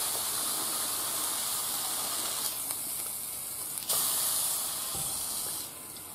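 A miso-glazed grilled rice ball sizzles in a frying pan on residual heat with the burner off, giving a steady, close hiss that stays loud and even, easing slightly toward the end.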